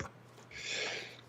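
A single short, breathy burst of noise, like a quick sneeze, fairly quiet and heard on its own.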